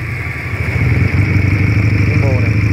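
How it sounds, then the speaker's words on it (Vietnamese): A Honda Rebel 125cc motorcycle engine idles close by with a steady, even putter that grows slightly louder after the first second. "để em bán tiếng máy nổ anh em nghe sơ tiếng máy đi"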